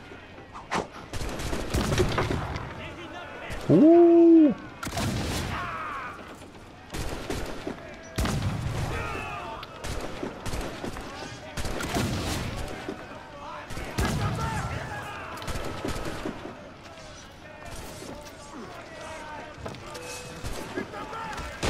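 Ship cannons fire in Assassin's Creed Black Flag on PS4, a string of heavy booming shots spread through the stretch amid game effects, with a player talking over parts of it.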